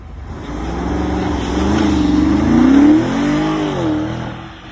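A BMW X6 M50i with a 4.4-litre twin-turbo V8 accelerates hard, the engine note rising steadily and loudly through a gear before easing off near the end.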